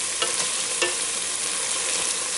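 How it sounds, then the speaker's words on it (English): Italian sausage and onions fry steadily in a pot, a dense continuous sizzle with a few soft stirring scrapes near the start, close and even throughout. "our sausage is just about done. I'm letting it cook a little bit longer"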